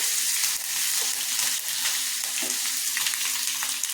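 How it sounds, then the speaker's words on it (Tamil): Mustard seeds, urad dal, dried chillies, cumin, curry leaves and asafoetida crackle in hot oil for a sambar tempering, a loud close sizzle with small pops and spits over a faint steady hum. "எண்ணெய் சூடாக இருக்குது கடுகு உளுந்தம் பருப்பு காஞ்ச மிளகா சீரகம் போட்டுக்கிறேன் கருவேப்பிலை போட்டுக்கிறேன் பெருங்காயம் போட்டுக்கிறேன்"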